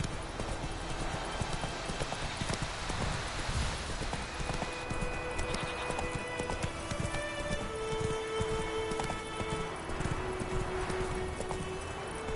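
Roach, the horse in The Witcher 3, gallops with a steady, quick clatter of hooves. The pounding rhythm runs without a break under rain-like hiss, and a few tonal game sounds rise over it.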